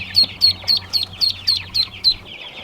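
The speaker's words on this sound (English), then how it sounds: "it's a little duckling that's right in here" A single newly hatched duckling, just out of an incubated egg, peeps in a steady series of about eight high, short chirps evenly spaced and close by, with faint background hum.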